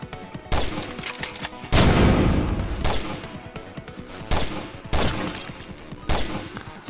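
Gunfire in a VR shooting video game: a string of sharp shots and short bursts, with one heavier sustained volley partway through, close and loud with no talking.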